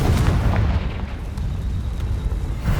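A Confringo fire spell bursts in Hogwarts Legacy, a loud, dense rumbling explosion that fills the whole moment and rolls on with a heavy, roaring tail.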